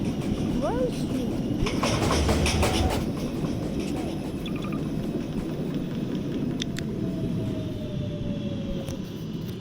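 A New York City subway train runs along the track with a loud, steady rumble and clatter, a long squeal rising partway through, while an automated announcement voice speaks over it.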